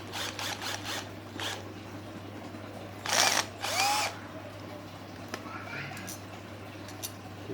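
An electric screwdriver whirs in short bursts while removing screws from the electric sliding door of a Nissan Serena Hybrid C26, with a couple of louder runs midway over a steady background hum and occasional nearby talk.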